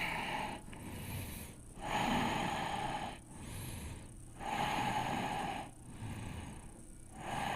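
Deep, slow breaths during a yoga class for athletes, with about three long, loud inhale-exhale cycles, each rushing, airy breath close and clearly audible, separated by short pauses.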